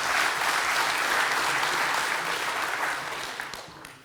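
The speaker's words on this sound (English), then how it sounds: "Give this man a warm applause" An audience at a network operators' conference gives a speaker a warm round of applause, dense steady clapping that holds strong for about three seconds and then fades out.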